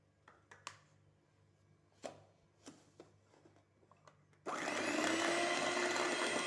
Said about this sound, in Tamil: சர்க்கரை கரையிட்ட வரைக்கும் பீட் பண்ணிக்கோங்க.